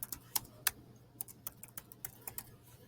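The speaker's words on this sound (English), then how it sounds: "you're going to type in Turtle Research" Someone types on a computer keyboard in quick, uneven bursts of crisp, light key clicks, heard close and alone.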